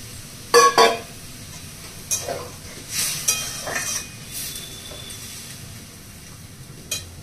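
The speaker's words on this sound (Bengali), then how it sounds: "এর মধ্যে একটু জল দিয়ে দিচ্ছি" A small bowl of water goes into shukto, a Bengali vegetable dish, cooking in a pan. It brings a soft sizzle and bubbling, broken by a few metallic clinks and scrapes of a spoon against the pan, close by.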